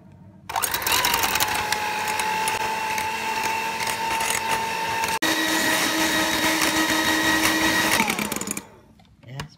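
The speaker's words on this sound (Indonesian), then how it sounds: "Nah, ini kita mixer sampai warnanya putih kental, seperti kita buat bolu ya." Electric hand mixer whirring steadily at high speed as it beats egg roll batter until thick and white, a continuous loud motor drone that starts abruptly, holds for about eight seconds, then cuts off.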